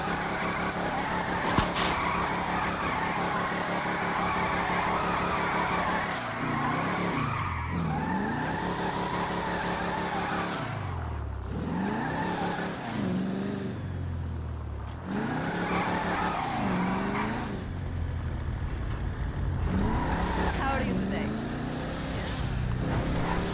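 An Albany Lurcher, a muscle-car-based car in GTA Online, drifts with loud sustained tire squeal and skidding over a roaring engine that rises and falls through repeated slides.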